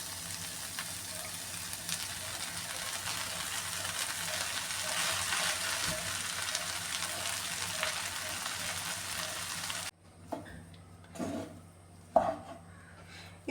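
Cooked noodles hit a hot pan and sizzle steadily for restaurant-style noodles, then the hiss cuts off and a few close clatters of stirring and tossing follow.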